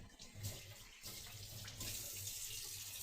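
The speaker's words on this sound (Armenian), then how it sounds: "հիմա ես լվանամ, տաք ջրով, լավ քամեմ" Hot water runs steadily from a tap while a cleaning cloth is rinsed and wrung under it, a continuous close splashing hiss with slight changes in flow.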